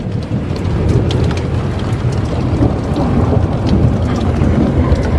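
Thunder rumbling through a severe, windy thunderstorm, a loud continuous low roll with heavy rain hissing steadily throughout, close and powerful with no voices.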